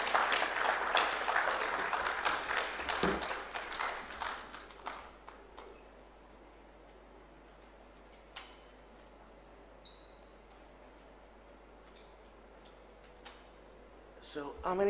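Audience applause after a talk at a health training dialogue, a burst of many hands clapping that fades out over several seconds, followed by a few scattered claps and quiet room noise.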